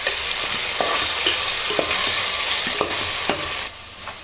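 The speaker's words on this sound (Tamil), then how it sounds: "இஞ்சி பூண்டு பேஸ்ட்டு இப்போ ஆட் பண்ணதுக்கப்புறம் சட்டி நல்லா அடி பிடிக்காமல் நல்லா கிளறி விட்டுக்கோங்க" Ginger garlic paste frying with golden onions in a pan, a steady loud sizzle with a spoon scraping and knocking against the pan every second or so, close up with no voices.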